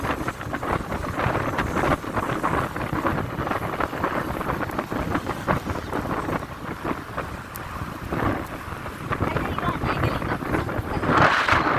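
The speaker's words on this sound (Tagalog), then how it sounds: "Medyo mahangin." Steady gusting wind roars across the microphone throughout, with rumbling buffeting and a brief louder gust near the end.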